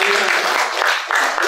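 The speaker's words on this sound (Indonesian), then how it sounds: "Kasih tepuk tangan juga dong." Brief applause at an Indonesian streamed webinar, a short burst of clapping under a speaking voice, fairly loud and close.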